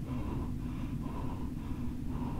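Heavy, rasping breathing from a character in the horror game HER TRUTH, a steady close loop of labored inhales and exhales with no talk over it.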